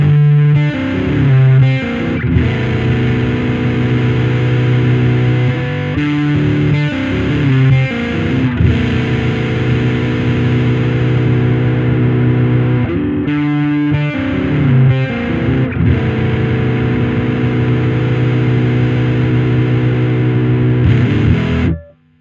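Loud, gritty electric guitar through a Nitro Drive Mk II overdrive pedal with the gain turned up, playing sustained chords and riffs with heavy gain, steady and continuous with brief pauses, no voices.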